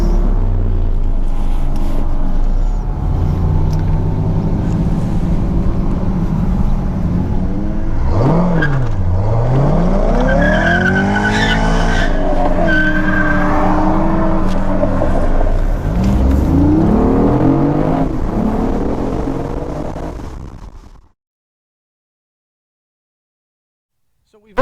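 A Lamborghini Aventador supercar drives with a loud, steady engine drone, its revs swelling and falling mid-way, before cutting abruptly to silence near the end.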